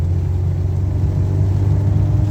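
Peugeot 205 GTI engine held at high revs toward the rev limiter, a loud steady mechanical roar close to the microphone with no talking.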